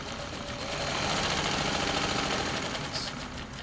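An old Champion sewing machine, a sturdy home model believed to be made by Japan's National, runs steadily after repair, giving a continuous close mechanical whir and rapid rhythmic clatter throughout.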